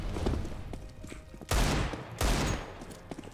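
Two loud, sharp bursts of CS:GO gunfire about a second apart, with softer clatter and faint thuds between them.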